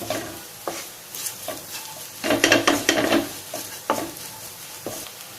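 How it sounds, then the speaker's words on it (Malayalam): A spoon stirs Kashmiri chilli powder and coriander powder through hot oil in a pan, making a close, soft sizzle with scraping strokes and a louder clattering burst midway, and no talking. "ഈ പൊടികളുടെയൊക്കെ പച്ചമണം ഒന്ന് മാറുന്നവരെ നന്നായിട്ടൊന്ന് മിക്സ് ചെയ്ത് കൊടുക്കാം."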